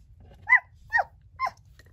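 A dog gives three short, separate barks at an even pace, close and clear over a faint low background hum, with no talking.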